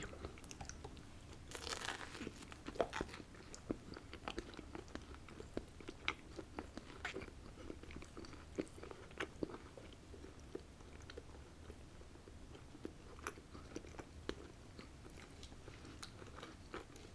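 Close-up eating of a dinner meal with breadsticks, soft crunchy bites and wet chewing repeating irregularly at a quiet level, with no talking.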